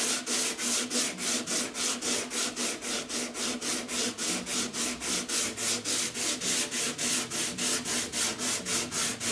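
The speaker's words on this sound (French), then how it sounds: "la densité de l'ivoire rose fait que au ponçage, ça donne de très très beaux résultats" Rhythmic back-and-forth sanding of dense pink ivory wood over a convex surface, steady strokes about three per second, close and continuous with no talking.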